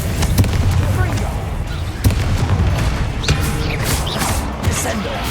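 A Confringo fire spell bursts in Hogwarts Legacy, a dense, loud barrage of booming blasts and crashes over a constant rumbling game-action backdrop, with no pause between hits.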